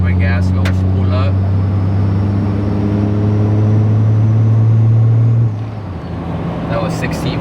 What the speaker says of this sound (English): if I was to just give it a little bit of gas, go spool up